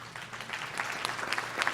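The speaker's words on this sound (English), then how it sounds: "I think we owe them a round of applause this morning." A morning conference audience gives a brief round of applause, a dense patter of clapping that holds steady through its short span.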